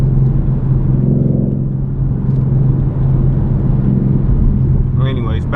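A 2020 Ford Mustang 5.0 with a muffler delete cruising in fourth gear at night, with a loud, steady low engine drone and rumble from inside the car, and a voice talking over it near the end.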